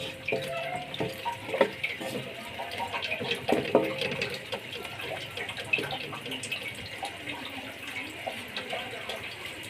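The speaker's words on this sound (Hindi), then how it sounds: "थोड़ा सा हम इसमें पानी डाल देंगे ताकि इसमें जो भी कमी पेशी है वो निकल जाए" A little water poured into a cooking pot of chicken macaroni, a steady close trickle and splash running throughout with faint clinks over it.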